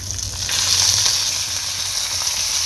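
Curry leaves added to hot oil with mustard seeds, cumin and urad dal sizzle and spatter steadily for an Andhra-style coriander dal, a loud, close, continuous frying hiss with no talking.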